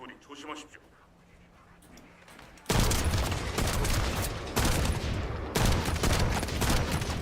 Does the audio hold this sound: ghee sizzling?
no